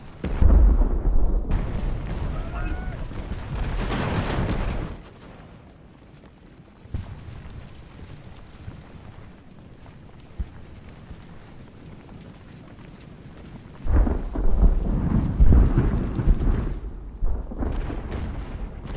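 Booming cannon fire from sailing warships in Ultimate Admiral: Age of Sail rolls out in heavy bursts at the start and again near the end, separated by a quieter stretch of ambient battle noise.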